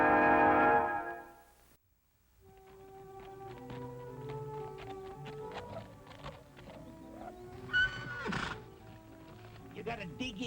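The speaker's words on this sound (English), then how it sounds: "a great wild horse and the only person on earth who can ride him" A wild horse lets out a loud, shrill whinny up close, then hooves clip-clop beneath sustained tonal background sounds, with more clattering and a brief louder burst later on.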